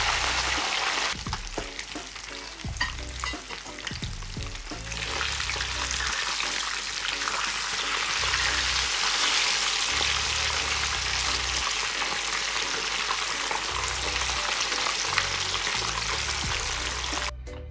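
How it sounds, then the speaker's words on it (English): Sea bass pieces frying in a pot of hot oil, giving a dense, continuous crackling sizzle that runs steadily and close throughout, with a few brief knocks near the start. "here we have our fish fried"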